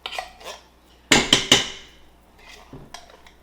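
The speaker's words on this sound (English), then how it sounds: "I know it's loud beating it on the side of the pan for y'all." A metal utensil knocks sharply against the side of a pan of tomato paste for spaghetti sauce, three loud clanging hits in quick succession, with softer scraping and clinks before and after.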